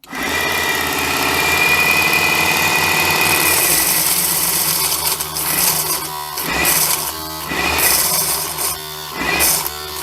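A small Aliexpress-style mini belt grinder motor runs steadily with a whirring mechanical drone, its tone shifting midway as the abrasive belt contacts work with uneven pressure, producing a rougher, pulsing grind.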